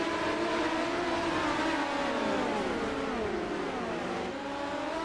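Midget race cars roar around a Limaland dirt oval, a dense, fairly distant wash of overlapping engine notes rising and falling steadily throughout.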